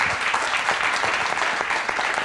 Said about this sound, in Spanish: Pues entonces se merece un aplauso Luis López de Toledo